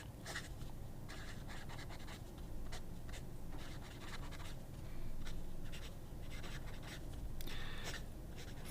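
A fountain pen with a fine nib scratches across paper in soft, close strokes, short bursts of writing separated by tiny lifts, quiet and alone with no voices.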